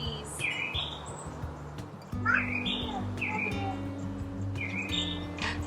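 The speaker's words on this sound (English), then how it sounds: "There's a bird." A bird in the grass gives repeated short chirps and sweeping tweets, several distinct calls over a low steady background hum, fairly faint and outdoors.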